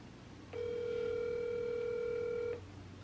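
An outgoing phone call rings out as a steady electronic ringback tone lasting about two seconds, clear and moderately loud over a quiet room background. No one speaks.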